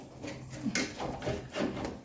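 A plastic front fender on a 1995 Mercedes E300 is slid forward and up off the car body, giving a few short scraping, rubbing knocks in quick bursts, close by and fairly quiet.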